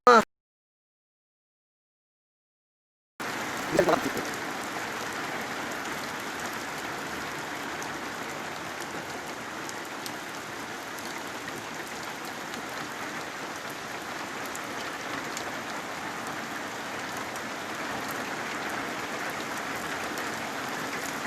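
Heavy, steady rain pours down in Güzelyurt, a dense continuous hiss that starts abruptly after a short silence and holds at an even, loud level throughout, with no voices.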